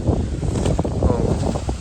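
Steady, blustery wind roaring into the microphone at an apiary, with low rumbling buffeting throughout.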